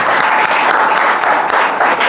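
Loud, continuous applause from a crowd at a school class reunion evening, a thick wash of clapping sustained from start to finish without a break.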